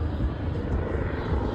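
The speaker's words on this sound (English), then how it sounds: "it's a chopper" A helicopter passes overhead in a city, a steady low rotor and engine rumble holding at moderate loudness throughout without letup.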